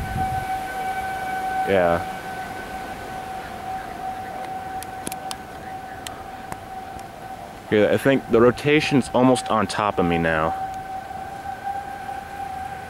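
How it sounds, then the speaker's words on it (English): Civil defense tornado warning sirens wail steadily in the distance across North Lincoln, Nebraska during a storm, a constant drawn-out tone running the whole time, with someone speaking over it and bursts of loud wind noise hitting the microphone. "Sirens are going off in North Lincoln"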